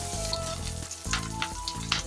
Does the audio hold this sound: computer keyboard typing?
no